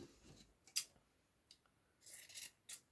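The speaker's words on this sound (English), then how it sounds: "Very brave with the scissors." Scissors snip through fabric being cut for a hand-stitched reading-glasses pouch, a few crisp close cuts at separate moments with quiet pauses between.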